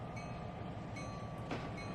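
A train in the Trainz 2022 railroad simulator rolls steadily with a continuous low rumble and faint periodic clicks of wheels over rail joints, one brief louder clunk partway through.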